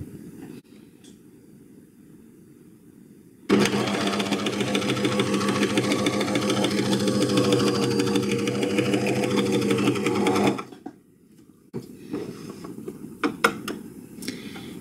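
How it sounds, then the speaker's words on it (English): A sewing machine runs chain stitches through a double fold binder, a loud steady whirring motor with a rapid mechanical clatter lasting about seven seconds, then stopping to quiet handling noises. "I'm going to switch my machine on and do a couple stitches"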